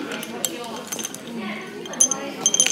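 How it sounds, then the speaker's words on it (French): Ice cubes clink into a glass during an evening at home, several light clinks and a small rattle toward the end, heard under ongoing conversation. "Elle met des glaçons dans son verre"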